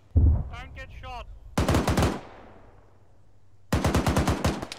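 A .50 cal machine gun fires in a war video game, two loud, close bursts of rapid shots with a pause between them and a brief voice just before.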